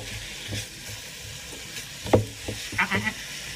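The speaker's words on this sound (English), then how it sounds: "Okay, so onions in, now the meat's gonna go in" Onions and meat sear in a pan with a soft continuous sizzle, broken by a few sharper hisses and clatters of stirring, close by, with brief faint voice sounds in the background.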